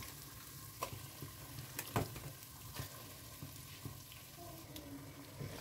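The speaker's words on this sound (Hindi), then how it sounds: "तीन से पाँच मिनट के लिए चिकन की भुनाई कर लेंगे" Chicken fries in a pan with ginger and garlic paste, a soft steady sizzle broken by scraping stirs and occasional clinks of a spoon, faint and close with no talk.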